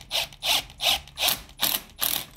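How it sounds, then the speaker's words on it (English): A small electric ratchet runs in six short, evenly spaced whirring bursts while tightening T-bolts and hose clamps on a Honda Fit GE8 turbo kit install. The bursts are close and fairly loud, with no voices. "these little impact guns or the little electric ratchets or stuff like that"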